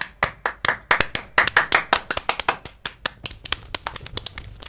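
Several people clap their hands together in a quick, uneven burst of sharp claps, loud and close, with the rhythm loosening and thinning out toward the end.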